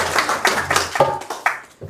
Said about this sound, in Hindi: तो उन सबके लिए भी ताली